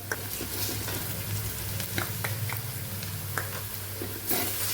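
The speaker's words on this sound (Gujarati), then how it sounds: "આદુ મરચાં અને લસણની પેસ્ટને પણ સાતળી લેશું" Onion with ginger, chili and garlic paste sautéing in a pan, a steady close sizzle with occasional scrapes and clicks of stirring, no voices.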